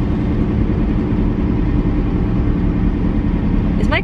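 A steady low engine hum and road rumble fill the cabin from start to finish, with a brief light rattle near the end.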